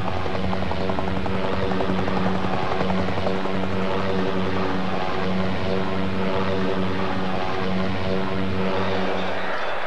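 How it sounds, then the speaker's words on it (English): An Australian-designed and built GAF Nomad utility airplane flies past at the 1988 Bicentennial Airshow at RAAF Base Richmond. A loud, steady propeller-engine drone holds throughout with no voices. "This is a plane right out of Australian folklore, the Nomad, designed and built in Australia."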